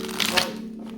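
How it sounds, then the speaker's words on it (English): Tarot cards are shuffled in one quick, close riffle, a brief crisp flutter of card edges. "One last shuffle for the twin flames."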